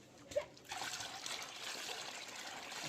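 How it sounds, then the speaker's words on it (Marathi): Water poured into a cooking pot for village-style mutton curry on a wood-fired stove, a soft trickling stream starting after a small knock and running on faintly to the end. "टाक पाणी याच्यात देऊ केवढं येतो अर्धा बघून"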